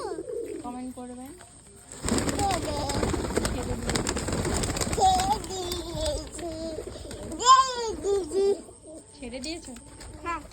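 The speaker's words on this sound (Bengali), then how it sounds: "এটা কোন পায়রা?" Pigeons cooing close by in a home setting, soft rolling calls recurring across the clip beneath steady household background noise and a voice chattering.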